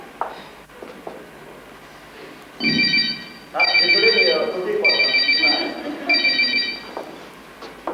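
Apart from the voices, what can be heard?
mobile phone ringing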